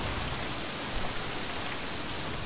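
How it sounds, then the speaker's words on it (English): Steady rain falling in the game Sleeping Dogs, a dense, even hiss of drops on surfaces, moderately faint and unbroken with no voices. "It's raining, so it's not very awesome, I guess."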